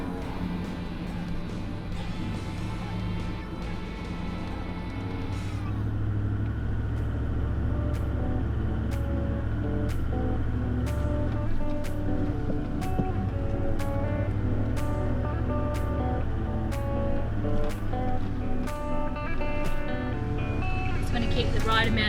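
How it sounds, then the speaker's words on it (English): A 4WD towing a camper trailer along a rough outback track between Ruby Gap and Finke Gorge, its engine holding a steady, low droning rumble at constant revs, with light rattles over the top. "Keep the right amount of revs up so I don't rock around too much with the vehicle and the camper trailer."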